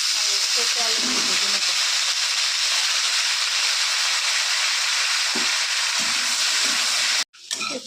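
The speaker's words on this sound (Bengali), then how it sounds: "একটু তেল দিয়ে দিলাম এখন সোয়াবিন" Soybean chunks sizzle in hot oil with a steady, loud broadband hiss that holds for about seven seconds before cutting off abruptly; a low voice murmurs briefly underneath.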